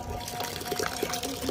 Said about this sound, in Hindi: अभी इसका पानी भी भर देती हूँ